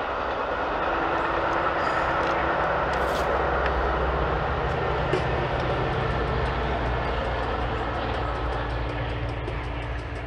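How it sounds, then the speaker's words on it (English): An outdoor train passing by gives a sustained, broad, distant-sounding rumble and roar that stays fairly even for about ten seconds, without speech. "we got a train coming by here."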